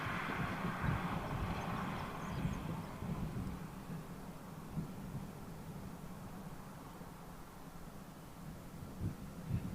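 An RC-135 Rivet Joint reconnaissance aircraft climbs out at a distance, its engines a steady, broad, rumbling roar mixed with wind noise that holds for the whole stretch without a break.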